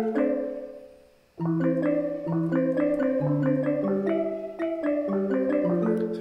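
Several Omnisphere synth patches layered into one blend: a sustained pad opens, then after a short gap stacked tonal notes step through a melodic pattern with steady rhythm, loud and close with no talking.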